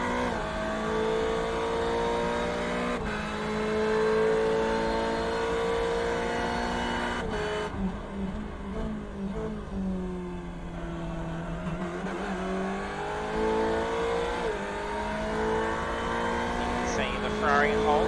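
A Ferrari 488 race car engine droning through its gears on an out lap at Red Bull Ring in iRacing, steady tonal revs rising and falling with shifts, heard under ongoing commentary.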